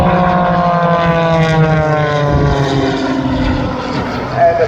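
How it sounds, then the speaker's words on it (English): Propeller aircraft flying in close formation at the Tocumwal air show, with a loud, steady droning engine note whose pitch shifts gradually as the planes pass near. "The aircraft on the inside has got to be playing with the throttle, maintaining that position to within an inch."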